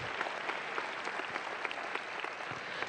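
Applause from the audience at a middle school promotion ceremony, a quiet, steady patter of many hands heard from a distance and continuing evenly throughout.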